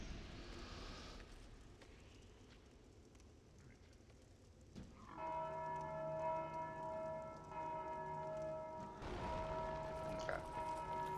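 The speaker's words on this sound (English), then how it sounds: "And that has a bell, which means that this must be our exit." Bell in Dark Souls II: Scholar of the First Sin, in the Undead Crypt, rings out with a sustained resonant tone from midway on, struck again near the end, over quiet ambient game sound.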